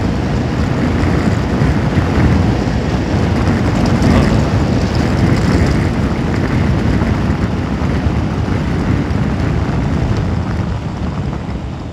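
Strong wind noise from riding a Honda Forza 350 scooter at speed on a main road, a loud steady broadband roar that continues without a break and eases slightly toward the end.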